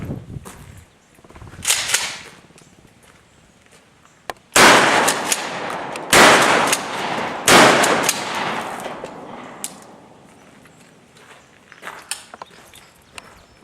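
A Mossberg 500 shotgun fitted with an Adaptive Tactical Venom Sidewinder conversion fires Rio slugs outdoors at soda bottles, with several loud, sharp blasts spaced a second or two apart and ringing decay after each shot.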